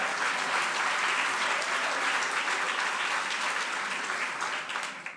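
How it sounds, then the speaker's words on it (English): Audience applause at a Tampa State of the City address, dense sustained clapping from a large crowd that holds steady and then tapers off at the end, with no talk over it. "Y'all can clap for that."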